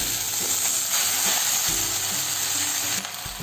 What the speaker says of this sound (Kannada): ಇಲ್ಲಿ ಬಾಂಡ್ಲೆಗೆ ಸ್ವಲ್ಪ ಎಣ್ಣೆ ಹಾಕಿದ್ದೀನಿ ಅದಕ್ಕೆ ಈ ಸೊಪ್ಪನ್ನ ಹಾಕ್ತಾ ಇದ್ದೀನಿ ಕಟ್ ಮಾಡ್ಕೊಂಡಿರೋ ಸೊಪ್ಪು